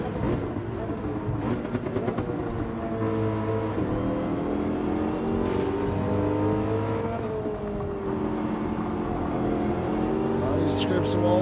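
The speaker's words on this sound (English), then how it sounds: "we're firmly in the slipstream of our good old friend Vigo and the BRZ" Race car engines roar through a Gran Turismo 7 Manufacturer Cup race at around 170 in a slipstream behind a Subaru BRZ, engine notes rising and falling with shifts, loud and close beneath a voice talking.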